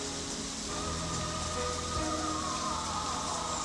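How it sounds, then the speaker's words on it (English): Rain falls steadily on a surface, a dense, even hiss of drops that holds its level throughout, with no voices. "What is it about the sound of rain?"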